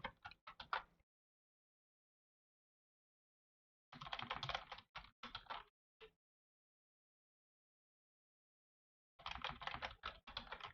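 Bursts of rapid key presses on a computer keyboard while a password is entered for a root account, three separate clusters of clicking with long silent gaps between them, close and clear with no talking.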